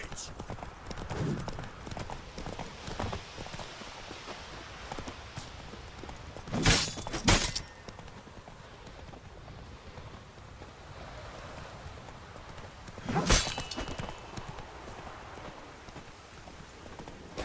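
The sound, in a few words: horse Roach running, hooves clip-clopping, from video game The Witcher 3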